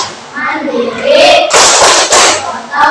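Children in an Indonesian classroom performing the Tepuk PPK chant, voices chanting together followed by two firm bursts of unison hand claps, close and loud, with chanting resuming at the end.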